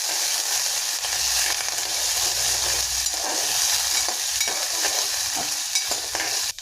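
Potatoes and drumsticks frying in a pan, a loud continuous close sizzle with faint stirring clicks throughout, no voices.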